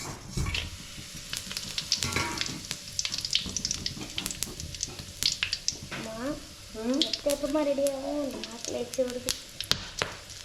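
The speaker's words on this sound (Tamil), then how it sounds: "இப்போ இதையும் நான் வந்து வறுக்க போகிறேன்" Oil sizzles and crackles steadily in a pan as cinnamon and spices fry for a snail gravy, with utensil clinks and a person talking over the frying.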